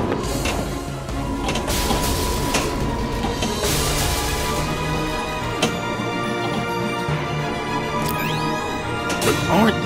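Droids smashing themselves to pieces on a Star Wars Lando Calrissian pinball table in Pinball FX3, dense crashing and whacking impacts over busy electronic game music and effects, with sporadic sharp hits throughout.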